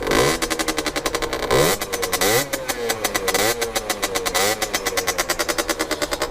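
A stationary motorcycle with a tired, worn exhaust being revved in repeated sharp bursts, each throttle blip rising and falling over a steady idle, loud and close.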